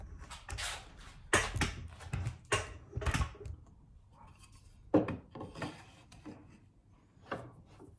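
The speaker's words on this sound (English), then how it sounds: "the tool of choice for this is a fishtail chisel" A Blue Spruce fishtail chisel pares and scrapes dovetail waste from a lipped drawer part clamped in a Moxon vise: close, dry woody rasping strokes in irregular bursts, with quieter gaps between them.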